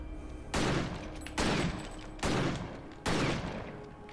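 Gunfire from the action RPG Victor Vran rings out in four loud, evenly spaced bursts, each a sharp crack with a short decaying tail, with no voice over them.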